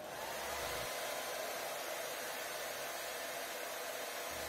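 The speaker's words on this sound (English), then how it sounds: "blowing on the fins with a hairdryer" A steady, close hair dryer blows continuously on model rocket fins with a broad, even rushing hiss and no pauses.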